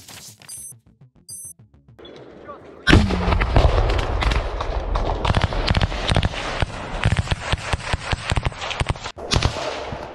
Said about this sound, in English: A Russian soldier hit the position where Ukrainian soldiers were located with a grenade launcher at close